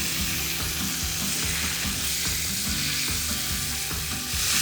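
A salmon fillet sizzles steadily in a hot pan alongside shallots just after being flipped, a dense, even crackling hiss with soft low knocks of the pan underneath.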